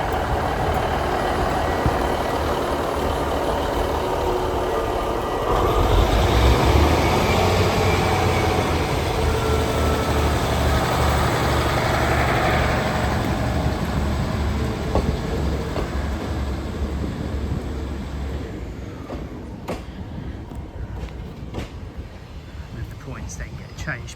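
A train rumbles through Coombe Junction Halt station, halting at its usual stopping point before the points change for the Looe Valley line; a steady low engine drone fills the clip, swelling midway and then easing, with faint clanks near the end.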